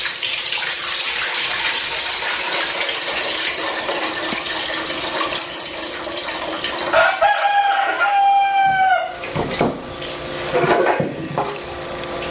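Chickens and a rooster at a rural home where corn grits are being prepared; the crowing comes in clear rising calls late in the stretch over a steady wash of water-like background noise.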